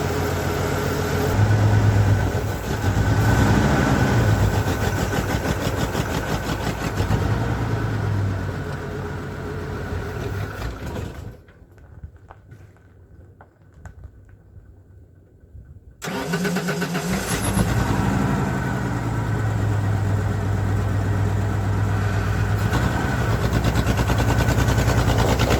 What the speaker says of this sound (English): As you can see by the way the engine is still shaking, there's a lope to it.